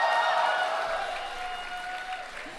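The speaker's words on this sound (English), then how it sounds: "Can we hear some noise from the crowd?" A big crowd cheers and roars at a grand finale event inside Aizawl's Dwarpui Multi-Purpose Hall. The steady, dense wash of voices and clapping fills the space and eases slightly toward the end.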